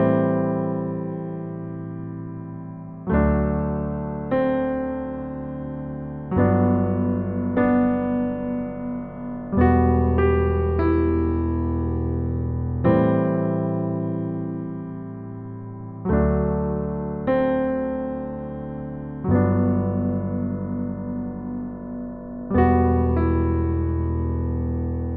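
A piano plays the intro of a song as slow, sustained chords, each struck every few seconds and left to ring and fade. It is moderately soft and heard alone with no talking.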